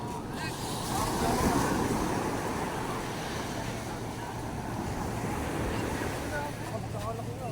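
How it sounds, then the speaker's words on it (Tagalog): Waves surge and slosh against a small lobster-fishing boat, water coming aboard, amid wind buffeting the microphone, with a rumbling wash that swells early then stays steady; voices are present. "Yan na, alon! Pinasukan na ng tubig."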